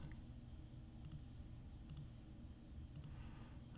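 Left mouse clicks while dragging items into a Minecraft Education Edition inventory: a few quick paired clicks spaced about a second apart, faint against a steady low room hum.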